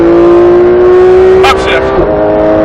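A race car's engine drones loudly and steadily on a race track, its pitch shifting near the end, with a voice briefly heard over it.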